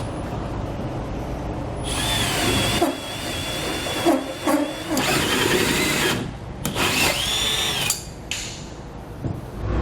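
A 3.5-inch hole saw bites through a vehicle floor, following a pilot hole to mount a D-ring tie-down anchor. The drill whines in loud bursts of varying pitch, with short pauses between cuts, close by.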